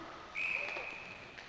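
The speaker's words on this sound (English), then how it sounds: "not sure why the whistle went." A referee's whistle at a junior ice hockey game sounds one sustained shrill blast of about a second, moderately loud over faint arena background.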